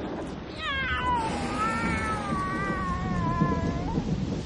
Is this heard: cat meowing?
yes